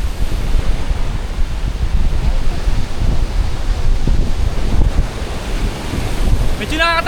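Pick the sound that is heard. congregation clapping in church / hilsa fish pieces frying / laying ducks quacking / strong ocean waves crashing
strong ocean waves crashing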